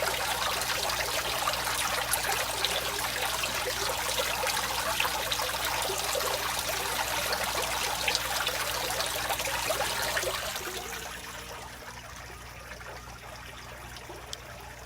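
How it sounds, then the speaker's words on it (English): Water from a pump pours into an aquaponics tank with a steady, close trickling splash over a low electrical hum, the splashing fading noticeably near the end. "And that's what it looks like when there's water pouring into the tank."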